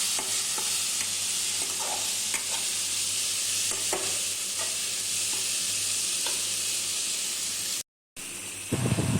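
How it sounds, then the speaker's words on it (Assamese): Fish frying with tomatoes in a pan gives a steady, loud sizzle and hiss, broken by occasional scraping strokes as it is stirred, with a brief dropout near the end. "এয়া মাছখিনি দি অলপ দেৰি লৰাই থাকিম।"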